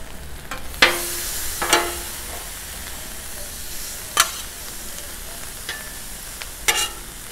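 Food sizzles steadily on a 36-inch Blackstone griddle at around 300 degrees while being stirred and flipped, with several sharp spatula scrapes and clacks standing out over the constant frying hiss.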